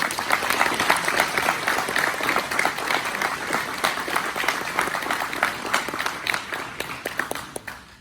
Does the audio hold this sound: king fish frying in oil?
no